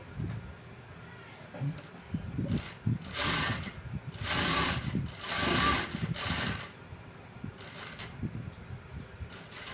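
A sewing machine stitches piping onto fabric in bursts, its rapid mechanical whir rising and falling over several runs, close and moderately loud, with quiet pauses between stitching passes.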